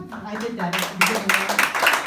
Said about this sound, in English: Everybody give me a clap.